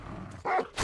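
A dog barks in the video game Metro Exodus, one short, fairly close bark rising out of a low background hum.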